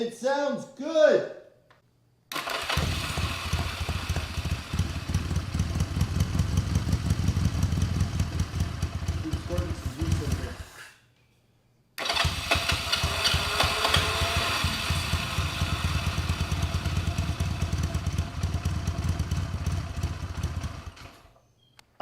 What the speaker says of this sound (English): that sounds like a running motorcycle